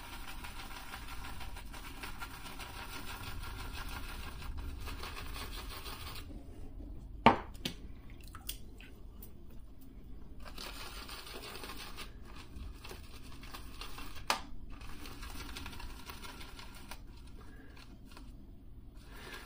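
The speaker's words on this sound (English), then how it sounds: "we're gonna go right into my Proraso shave bowl here and get some soap loaded into the" An Ever Ready C40 shaving brush loads soap in a Proraso shave bowl, giving a faint, steady swishing and scrubbing with a couple of sharp clicks partway through.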